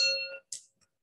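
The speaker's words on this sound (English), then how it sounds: "So when you hit this water glass," A water glass struck once rings a clear, bright note that decays within half a second, followed by a short noisy tap and a faint tick.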